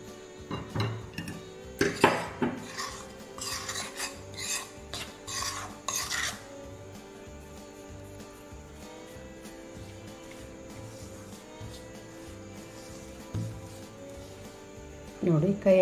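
A spoon works hot chakli murukku dough in a bowl, with scraping, clinking strokes clustered in the first six seconds, then a quieter stretch of faint stirring before a few more strokes at the end.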